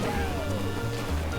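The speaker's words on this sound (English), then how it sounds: "I do sort of like how it sounds now with the new car. Sort of the growly engine." A kart in Mario Kart 8 runs with a deep, growly engine that drones loudly and steadily, its low pitch rising and dropping in repeated pulses.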